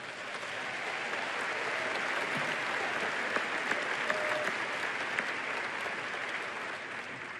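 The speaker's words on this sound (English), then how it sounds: "I'd like to take a round of applause for everyone studying education within this room" Steady, dense applause from a large audience fills a University of Wisconsin-La Crosse winter commencement ceremony, holding even and moderately distant for about seven seconds with no talking over it.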